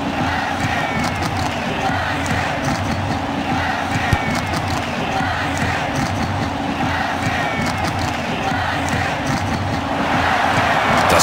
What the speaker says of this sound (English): And the new player gets a big cheer from the fans as he runs onto the pitch.